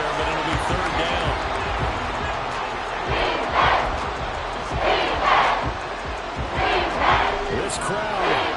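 Stadium crowd noise in an American football video game, Buccaneers against Saints, a steady roaring wash that swells in several loud surges around third and long, with bursts of cheering.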